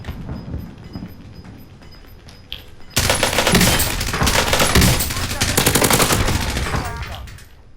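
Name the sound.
gunfire in video game Call of Duty Warzone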